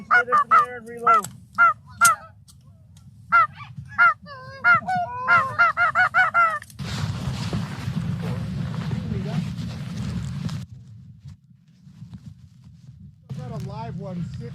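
Geese honk repeatedly during a goose hunt, a burst of loud overlapping calls early on, then a stretch of broadband noise like wind or movement, with more honking returning near the end.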